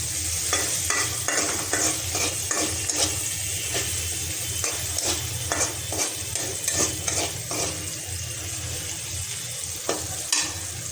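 Onions sizzling and frying steadily in a pan for a fish curry, with repeated stirring scrapes punctuating a continuous crackle, close and fairly loud, with no voices.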